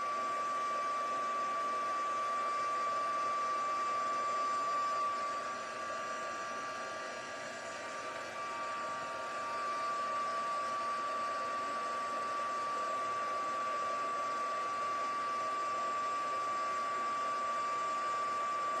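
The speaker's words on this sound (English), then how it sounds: "Let's fire up this heat tool again." A heat tool blows steadily for card embossing, a continuous broadband whoosh with a faint high whine, close and loud, dipping briefly midway before resuming for the full stretch.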